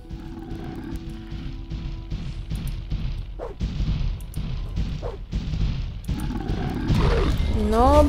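Golems in the video game Gothic II let out deep roars and heavy impact booms amid combat noise, several hits and growls in sequence, with someone talking briefly over the game sounds.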